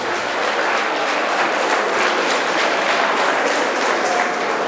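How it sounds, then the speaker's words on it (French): A stadium crowd applauds a minister at the presentation of the Africa Cup of Nations trophy, dense steady clapping that fills the whole stretch at an even level. "Je voudrais encore une fois vous demander d'acclamer le ministre Mech, ici présent."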